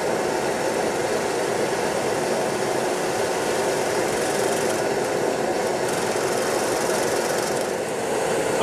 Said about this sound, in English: I'm going to do the point first right down here with my skew, taking some nice slicing cuts.